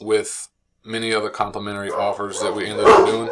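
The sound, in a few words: pit bull dogs barking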